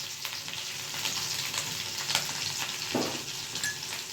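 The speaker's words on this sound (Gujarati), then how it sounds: "હવે આમાં હું હિંગ નાખું છું." Asafoetida (hing) dropped into hot oil for a tempering, with dried and green chillies already in the pan, giving a steady, close, crackling sizzle with a faint stir partway through.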